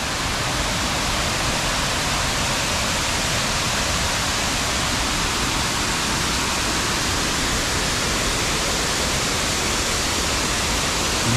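Huai Mae Khamin waterfall in Thailand roars in a dense, unbroken rush of falling water, loud and steady throughout with no voices.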